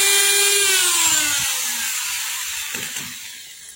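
Die grinder cutting into metal: a loud, high continuous whine that slowly sinks in pitch as it winds down, close by, alone with no voices.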